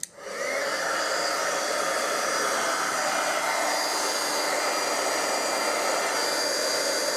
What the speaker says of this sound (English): So now I'm going to get my heat tool. Just grab that for a second. Just going to heat it up.